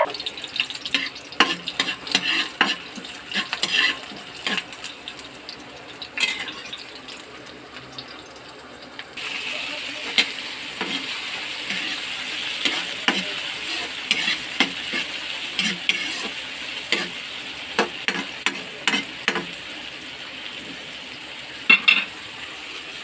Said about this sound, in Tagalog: So, maggisa na tayo